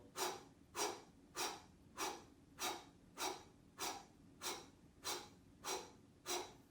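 During a seated breathing exercise, a person pushes out about a dozen forceful, evenly spaced breaths through the nose and mouth at close range, steady and rhythmic with no talking.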